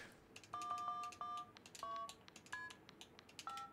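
Phone keypad tones from the video game Five Nights at Freddy's: Into the Pit, a quick sequence of clear dual-tone beeps pressed one after another in an uneven rhythm, loud and alone.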